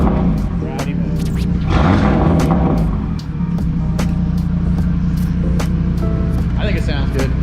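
A loud, rumbling exhaust on an Audi RS3 with a Unitronic downpipe, Stage 2 E85, in loud exhaust mode, idles close by with a brief swell in revs, and people talk over it.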